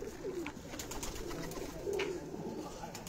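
Black-eyed pigeons on a rooftop coo softly in two brief low calls, faint against a steady background hum.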